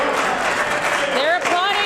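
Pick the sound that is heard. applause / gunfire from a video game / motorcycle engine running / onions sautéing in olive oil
applause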